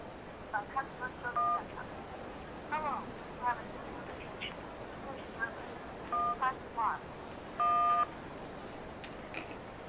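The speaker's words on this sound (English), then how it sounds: "Hold on, that's my phone." An automated scam call rings through on a phone, giving scattered electronic beeps and dial-tone bursts in irregular clusters beneath a steady wash of background noise.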